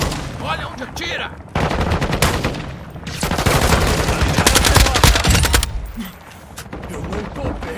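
Rapid bursts of automatic gunfire in the Call of Duty war shooter, loud and close, coming in long stuttering volleys with brief pauses between, layered with in-game sounds and a player talking.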